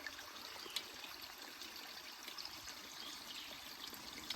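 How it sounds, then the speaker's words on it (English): Water being hand-pumped through a filter on a trail, a steady soft trickle and pour of liquid running continuously with faint clicks, fairly quiet and close. "You pump water."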